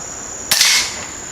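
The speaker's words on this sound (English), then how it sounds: "We're going to take a shot right here. See if I can hit one of them." An ATI Nova Freedom air rifle fires a single sharp shot at a can outdoors, a loud crack with a brief hiss over a steady background whine.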